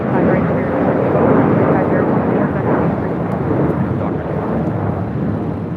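A jet airliner taking off from runway 25 right at LAX, a loud continuous roar with broad rumbling thrust filling the scene, steady and near throughout.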